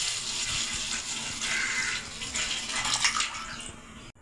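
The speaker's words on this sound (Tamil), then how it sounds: "இப்போ நம்ம தேங்காய் பால் ஊற்றி வச்சுருக்கோம்." Coconut milk pours steadily into a pan for about four seconds, a close, continuous liquid splash that cuts off sharply at the end.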